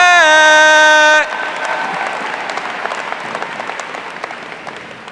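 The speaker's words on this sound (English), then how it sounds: "Give yourselves a round of applause" A sustained tone cuts off and gives way to a large crowd's applause at a keynote speech, broad continuous clapping that gradually fades.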